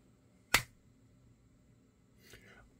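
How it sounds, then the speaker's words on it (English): A single weak hand clap, sharp and close, sounds at the start of a Pokémon card pack opening. A fainter rustle or voice follows a couple of seconds later in a quiet room. "a little bit of a weak clap"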